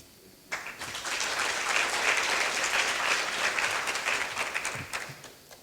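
Audience applause at a science granting councils meeting, starting abruptly and swelling into a full, even round of clapping before tapering off, fairly close with no talk over it.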